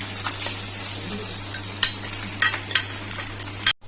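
Marinated bhola fish pieces set one by one into an oiled pan lined with banana leaf, a steady low frying sizzle with a few sharp clinks and scrapes of utensils, close up and without talk.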